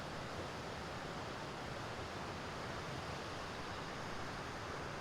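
The North Fork of the Big Wood River rushes steadily, a broad, even hiss of flowing water with no breaks, close and fairly loud throughout.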